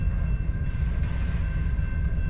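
A very long freight train rolls steadily past, a continuous low rumble and grinding of wagons on the rails, close and unbroken with no talk.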